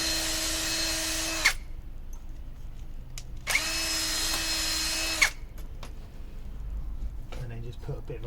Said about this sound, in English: I've also just put on this wire brush fitting onto my drill